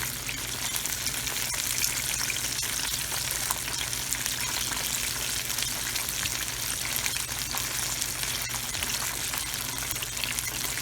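Steady crackling sizzle of food frying in hot oil, dense and continuous throughout with no talking.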